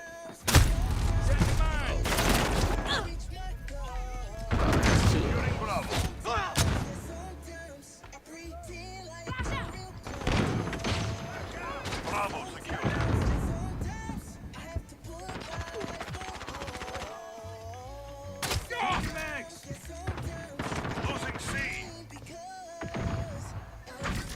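Video game gunfire crackles in repeated bursts of rapid shots and heavy thuds, loud and irregular, with quieter gaps between volleys across the whole stretch.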